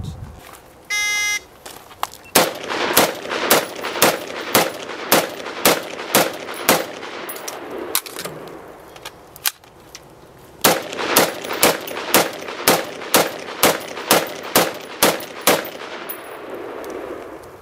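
A rifle fires through a target array from two 10-round magazines: two runs of sharp, evenly paced shots with a brief pause between them for the magazine change, loud and close outdoors.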